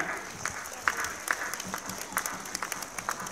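Applause from a modest outdoor crowd at the opening of a new town centre in Väike-Maarja, Estonia: scattered sharp claps with a few louder hits, steady and moderately loud for a few seconds.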